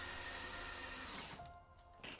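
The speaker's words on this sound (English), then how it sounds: "You should pre-drill the anchor strips every 3 inches with a countersink drill bit" A power drill with a countersink bit bores into anchor strips during a stall mat installation, whirring steadily for over a second before winding down and stopping, with a brief resumption at the end.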